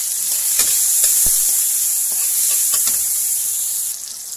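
Tomatoes sauté in a pan for pinakbet, a steady soft sizzle with occasional stirring scrapes and light clicks, close and continuous with no talking.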